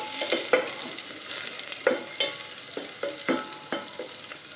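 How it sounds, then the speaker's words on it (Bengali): Finely chopped garlic is fried and stirred in a pan, producing repeated close spatula scrapes and taps roughly every half second over a soft, steady sizzle. "দিচ্ছি একটু রসুন কুচি, খুব সামান্য, নেড়ে কেড়ে দিই, নইলে পুড়ে যাওয়ার সম্ভাবনা থাকবে।"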